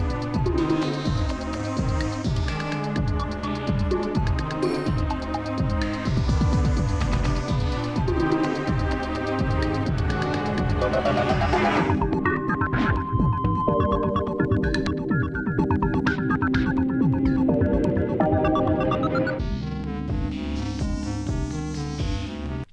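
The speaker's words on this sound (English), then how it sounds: "That very subdued synth pad right there" Music from the OMORI video game soundtrack plays continuously and loudly, layering rhythmic parts with a soft, subdued synth pad and ambient harmonies.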